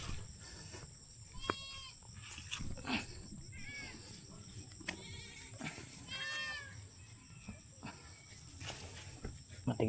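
Several goats bleat in repeated wavering cries on a farm, some close and some farther off, mixed with shuffling and footsteps.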